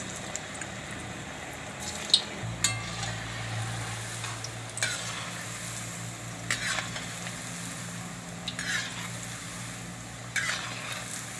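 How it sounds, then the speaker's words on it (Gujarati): Faint sizzle of Manchurian balls frying in hot oil runs steadily, broken by a few soft clinks and stirring sounds, with no voices. "તો હવે આપણે આમાં તળી લઈશું"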